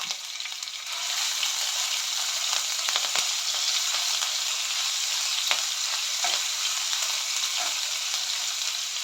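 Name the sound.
onions frying with ginger garlic paste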